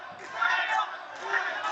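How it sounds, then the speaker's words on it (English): A crowd roars and chants continuously at a China versus Philippines boxing match, a dense wash of many voices cheering loudly with no pause. "The crowd are going wild."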